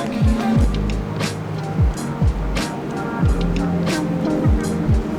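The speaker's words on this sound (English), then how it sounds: "You can hear the race cars, they're right out here on the track." Race cars roaring past on a race track at a motorsport museum, several fast pass-bys with falling engine pitch, moderately loud over steady background noise.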